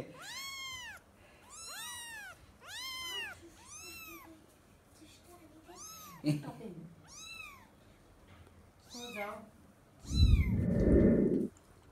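Several cats and kittens meow repeatedly at home, a string of clear, fairly close rising-and-falling calls spaced a second or so apart, with a burst of rustling noise near the end.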